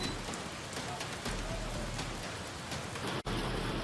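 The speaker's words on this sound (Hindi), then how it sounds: "लगातार हो रही भारी बारिश से कई जिलों में हालात बिगड़े हुए हैं।" Heavy monsoon rain pours down steadily in India during July flooding, a dense, loud, continuous hiss of drops on surfaces with no break, briefly dipping for an instant near the end.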